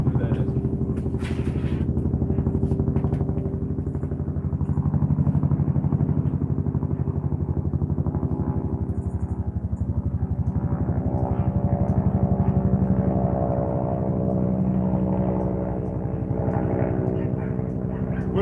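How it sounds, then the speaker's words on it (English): A helicopter with a very big engine flies overhead, its loud, steady engine and rotor drone filling the whole stretch and swelling gently as it passes, with a voice talking over it. "I'm just curious to see what helicopter that is."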